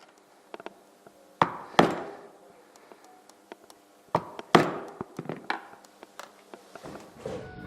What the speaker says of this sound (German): Deshalb locht er durch, damit die Löcher durch alle Materialschichten gehen.